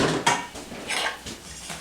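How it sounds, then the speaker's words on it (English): Melted butter and brown sugar mixed in a bowl for an apple crisp topping, a utensil scraping and clinking repeatedly against the bowl in uneven strokes, close and clear. "Okay, here's the butter. I'm gonna mix that."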